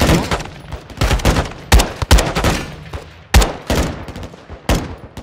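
Automatic weapon fire in Call of Duty: Modern Warfare 2, loud close bursts repeating several times with heavy echoing booms between them, no speech over it.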